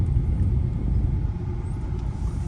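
Heavy road traffic on MG Road in Gurgaon, a steady low rumble of passing cars and engines with no clear breaks and no voices.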